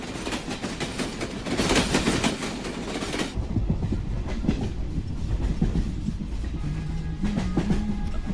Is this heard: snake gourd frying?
no